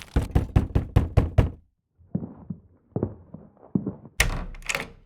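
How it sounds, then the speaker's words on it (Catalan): Seven quick, evenly spaced knocks on a wooden door, then a pause and a few slower, softer knocks, ending in a louder thump; close and with no talk. "Així que va anar a casa del Hassan i va picar a la porta."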